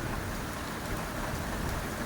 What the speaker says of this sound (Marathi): कसा पाऊस आहे.